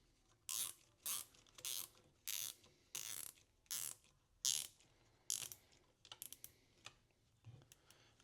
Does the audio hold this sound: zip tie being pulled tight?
yes